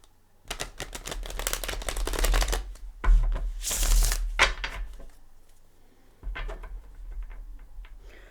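Close tarot card shuffling: repeated riffles and bridging of a deck, a rapid fluttering rush, then quieter sliding and tapping of cards.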